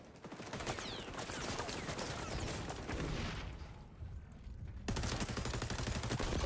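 Sustained rapid gunfire in the XDefiant video game, a dense stream of shots close and loud for several seconds, briefly easing before another burst.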